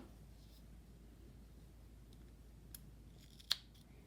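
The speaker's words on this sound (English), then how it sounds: "And then we'll cut any remaining tail." Scissors give a single quiet snip as they cut the leftover yarn tail of a crocheted mitten, close up, over a faint steady hiss.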